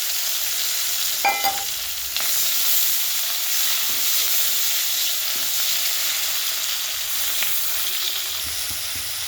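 Tomato and green chili frying in a wok with nigella seeds, a loud continuous sizzle with occasional clinks and scrapes of the stirring spoon.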